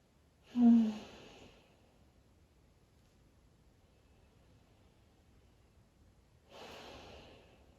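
Two slow, audible breaths during a relaxed yoga stretch with the forehead resting on a mat: a noisy nasal inhale-exhale near the start and another long soft breath about six seconds later, close and intimate, with near-silence between and no talking.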